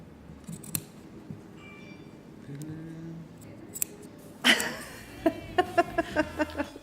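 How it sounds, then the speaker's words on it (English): Scissors cutting out a sewing pattern piece for an arm, a few scattered snips early, then a sharp burst followed by a quick run of crisp, evenly spaced closing snips up close. "Here I am cutting out an arm, not a sleeve."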